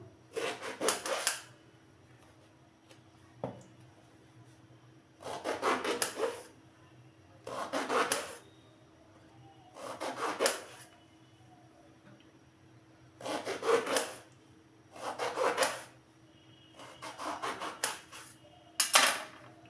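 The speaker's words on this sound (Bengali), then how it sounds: "তো বেগুনটাকে আমি এরকমভাবে কেটে নেব।" A knife slicing eggplant into thin strips on a cutting board, repeated rhythmic bursts of scraping cuts in about nine separate rounds with short pauses between, close and clear, no talking.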